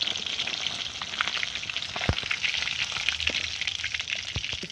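A katla fish head fries in oil with a dense, continuous sizzle close by, broken by sharp crackles and occasional spatter pops, no voices over it.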